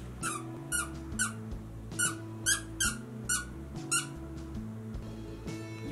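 A dog's squeaky toy nunchuck gives a run of sharp, high rubber squeaks in irregular bursts as the dog chews it, close and fairly loud over a steady indoor hum.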